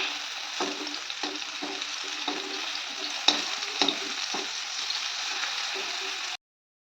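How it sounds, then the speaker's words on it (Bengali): Flat beans fry in a pan with a continuous close sizzle, broken by repeated stirring scrapes at a steady pace, before the sound cuts off abruptly. "শিম আর মূলোটা, তো শিমটাও ভেজে নেব।"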